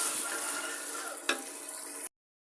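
Mutton for karahi fries in a pan with a steady, dense sizzle, close and loud, with a short clatter midway before cutting off abruptly.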